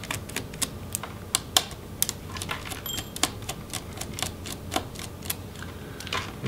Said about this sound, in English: go ahead and remove the screws